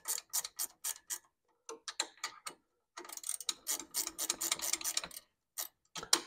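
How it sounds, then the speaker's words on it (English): A ratcheting wrench clicks in quick bursts of sharp ticks while working on a motorcycle's rear exhaust pipe, close and fairly quiet, with short pauses between runs of strokes. "That's called a ratcheting wrench."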